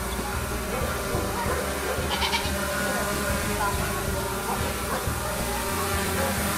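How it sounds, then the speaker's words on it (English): A frightened goat bleats in repeated cries amid a busy outdoor scene in the Philippines, with a drone nearby, voices chattering and a dense background din covering much of the clip. "Niton, the goat is panicking."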